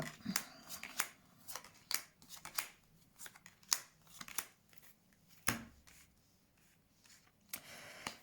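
Tarot cards being shuffled and drawn, a series of sharp close snaps and slides of card stock at an irregular rhythm, fairly quiet and with no talk.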